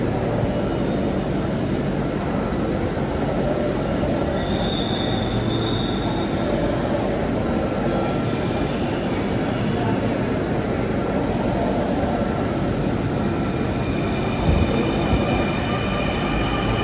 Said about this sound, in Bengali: ট্রেন ছেড়ে গেল ভিতরের দিকে